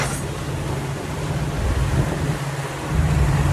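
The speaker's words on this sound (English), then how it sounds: "You can see the wind is blowing in this direction." Steady wind blowing over the sea on a sailboat towing a dinghy near Boot Key in Florida, a dense, continuous roar with low hull and water rumble and a constant low hum, loud and close.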